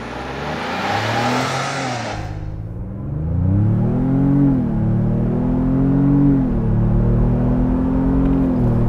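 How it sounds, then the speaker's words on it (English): A 2021 Ford Bronco Wildtrak with a 2.7-liter EcoBoost V6 accelerates hard, its engine note climbing loudly through rising revs with brief dips at shifts, after an opening rush of hissing air. "A real 2021 Ford Bronco. Wildtrak without launch control, brake boost."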